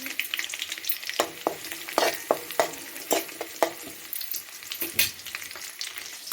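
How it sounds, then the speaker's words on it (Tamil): Ginger, green chili and curry leaves sautéed in a pan for millet pongal, with a steady sizzle and a run of sharp spoon-scrapes and clinks at irregular intervals, close by and with no talk. "போட்டு நல்லா வதக்கி விடுங்க."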